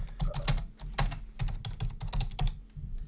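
Loud typing on a computer keyboard, a rapid irregular run of close, crisp key clicks heard alone.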